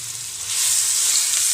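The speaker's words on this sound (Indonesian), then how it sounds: "Goreng-goreng sampai dia wangi, kekuningan, baru masukkan cabai." Coarsely pounded shallots and garlic hit hot oil and fry with a loud, close, steady hiss that swells after a moment and keeps sizzling without talk.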